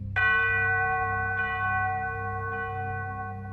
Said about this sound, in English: The bell chimes loud, echoing through the silence in the building.